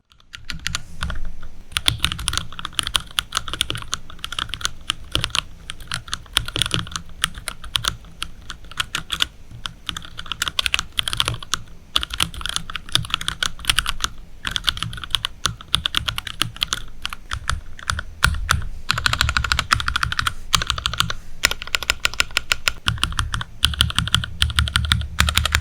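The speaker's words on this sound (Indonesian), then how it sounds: "Langsung saja kita dengarkan typing testnya." A dense, steady clatter of keystrokes on an ergonomic mechanical keyboard during a typing test, close and continuous with brief pauses, no talking.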